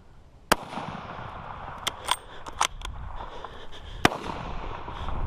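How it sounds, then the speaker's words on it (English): During a Texas hog hunt, a rifle fires in a series of sharp, sudden cracks, faint and spaced irregularly over quiet outdoor background noise. "I'm shooting."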